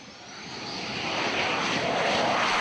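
A propeller airplane engine drones steadily overhead, growing louder as it approaches.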